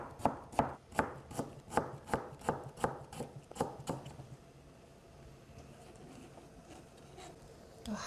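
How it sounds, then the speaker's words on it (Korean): A knife thinly slices pear on a cutting board for Korean vegan cold noodles, with about ten crisp, evenly spaced chops close by that stop halfway, leaving a quiet background. "그 다음 배를 또 무와 똑같은 모양으로 얇게 썰어 놓습니다."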